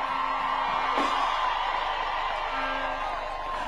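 Church congregation at a service in Kisii Town cheering, whooping and ululating, a dense, sustained crowd roar with a few sharp shouts rising above it, fairly loud throughout.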